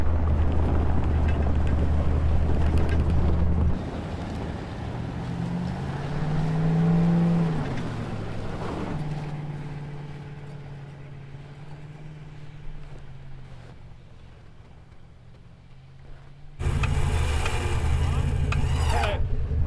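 A Ford Raptor in deep snow runs a loud engine that rises and falls in pitch as it strains and revs. After a quieter stretch of idling, a harsh, loud burst of wheelspin or revving ends the clip.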